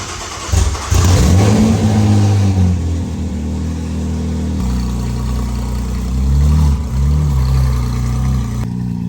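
A loud, straight-piped 2000HP Nissan GTR engine cranks to life and revs hard several times, its deep exhaust roar rising and falling before settling into a rumbling idle.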